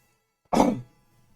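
One short, sharp cough from a person, close and fairly loud, isolated against near silence; it sounds like someone imitating a cough.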